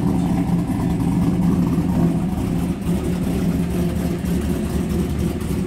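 A 4th generation Camaro/Firebird V8 engine idles with a deep, loud, steady rumble and a slight uneven lope, sounding close by and continuous with no talk.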